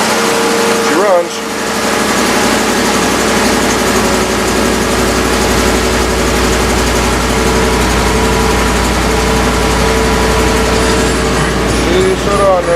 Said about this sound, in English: there's your cold start on the Cadillac